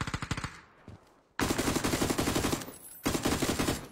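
Rapid bursts of automatic gunfire in a video game crackle loudly, a short volley, a brief lull, then two longer sustained bursts.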